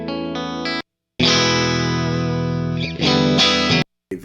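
Suhr PT100 amp pushed to the edge of breakup with a Stratocaster electric guitar through effects: sustained chiming chords with chorus and light distortion, a short strum, a brief pause, then a long ringing chord and another burst before cutting off.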